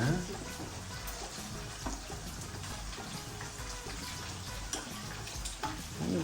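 Chicken frying in a home kitchen pan gives a steady, close sizzle with watery crackle throughout, broken by a few brief clatters of stirring or handling.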